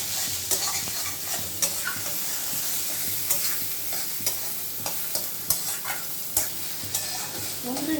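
Mashed teasel gourd stirred and fried in a pan, a continuous soft sizzle broken by regular scraping knocks of the spoon against the pan, close and steady.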